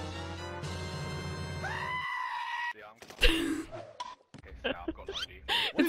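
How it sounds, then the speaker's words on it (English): A goat's loud, harsh scream-like bleats, several strained cries rising and breaking, following a sustained musical tone. "It's the goat screaming."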